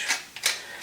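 Freshly cracked pepper is ground from a grinder in a few quick, close ratcheting clicks and crunches, short and crisp, with no voices.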